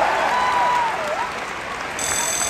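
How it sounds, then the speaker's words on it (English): Crowd applause at the London Horse Show, a broad steady wash of clapping and cheering from an indoor arena audience, with a whistling tone and a faint electronic beep over it. "Yes, you can cheer them."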